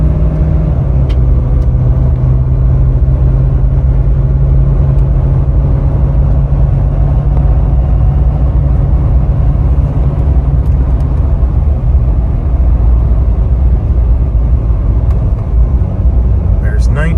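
A Ford 6.7 Powerstroke diesel pickup in tow haul mode pulls a 4,000-pound trailer at about 40% throttle, its engine droning in a steady, loud, low rumble as it climbs through the gears, with someone talking over it throughout.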